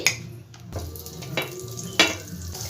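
Butter sizzling under a chowmein pizza in a pan, a soft hiss broken by a few sharp spatula scrapes and clinks against the pan, close-up with no talking.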